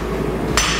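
A blacksmith swings a very long broom-handle hammer, and a single sharp strike lands near the end of a short stretch of low noise.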